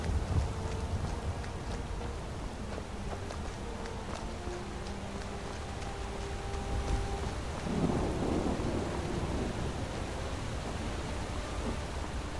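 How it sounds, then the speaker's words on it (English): Thunderstorm in Skyrim, with steady rain hissing throughout and low rolling thunder rumbling, swelling louder around the middle before settling back into constant downpour. "Lightning and thunder."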